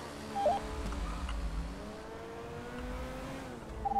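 Motorcycle engine heard from a following vehicle on a French motorway, a steady droning hum that rises and falls slightly in pitch over road and wind noise, with no talking.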